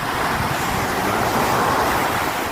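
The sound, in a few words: sea waves on a beach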